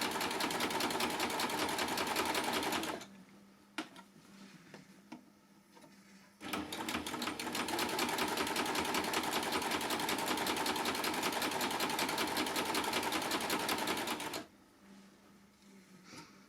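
A Baby Lock coverstitch machine with a plain hemmer foot stitches a hem in two long, loud bursts of steady rapid whirring, each stopping abruptly, with a quieter pause between them and no talking.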